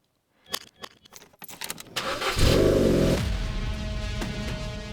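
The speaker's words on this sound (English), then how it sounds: "then start the engine." Keys jangle close by, then a 2004 Ford Fiesta's engine cranks for about a second, catches and settles into a steady, loud idle.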